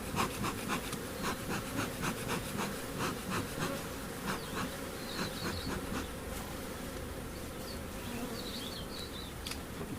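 A steady, dense buzzing of many honeybees around an open hive fills the air continuously, close and fairly loud, with small higher insect whines drifting through.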